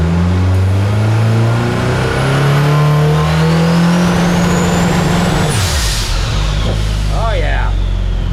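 A compound-turbocharged Mitsubishi 4G63 engine in a Fox Body car revs hard at a track day and climbs in pitch, then drops sharply as the throttle lifts, with a whooshing turbo release and voices talking over it.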